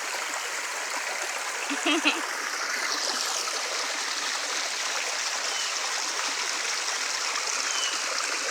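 Broadband rush of a stream flowing through a New York park, steady and close throughout, with a brief splashy burst near the two-second mark.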